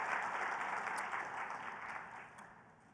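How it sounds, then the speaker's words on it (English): Audience applause at a geospatial intelligence conference panel on disaster planning, a steady wash of many hands clapping that fades slightly over three seconds with no talk. "give all those folks a big round of applause for everything they did"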